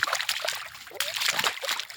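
Water splashing and trickling as feet are washed in muddy rainwater outdoors, with brief soft sloshes and splatters that run continuously, fairly close.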